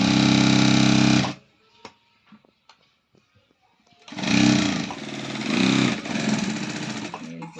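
A sewing machine stitches a cross cut blouse in two loud close bursts of rapid running, with a short quiet pause of small clicks and handling between them.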